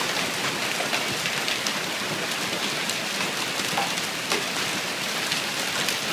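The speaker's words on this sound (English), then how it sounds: "How about some hail?" Hail coming down in Flagstaff, a dense, continuous patter of small impacts on surfaces, loud and steady throughout without any voices.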